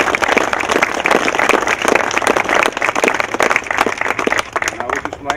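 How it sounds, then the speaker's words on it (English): A crowd claps warmly in honor of veterans, the applause full and steady at close range, with a few voices mixed in underneath. "just give the effort a little round of applause"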